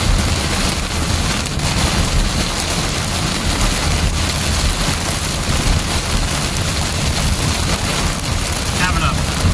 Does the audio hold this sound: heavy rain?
yes